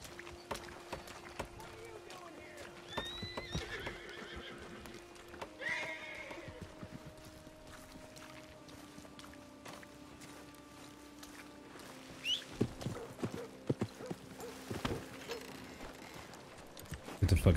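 A horse in the WildRP Red Dead game trots with faint rhythmic hoof clip-clops and a brief whinny, while a voice talks over game ambience and background music tones.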